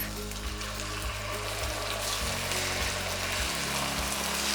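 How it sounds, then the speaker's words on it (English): Beef pieces searing in oil in a pan on medium-high heat, a steady close sizzle and crackle filling the whole stretch with no talking. "I'm gonna go ahead and add some oil and sear the beef"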